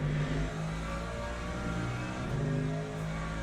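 Corvette race car engine in the Le Mans Ultimate racing game, a steady droning roar with layered engine tones and a slight swell in pitch, loud and continuous without any talk.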